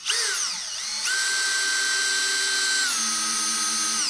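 A power drill re-drilling holes in MDF on a sliding table saw bench, a close, steady high whine that holds level for a few seconds and then drops in pitch partway through.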